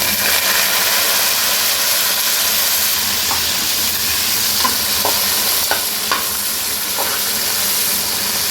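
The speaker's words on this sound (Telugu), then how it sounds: "ఇప్పుడు కొత్తిమీర పుదీనా వేస్తున్నాండి." Onions browned in hot oil crackle and sizzle steadily as fresh coriander and mint leaves go into the pan for bagara rice, with a few sharp pops and occasional stirring scrapes, close and fairly loud.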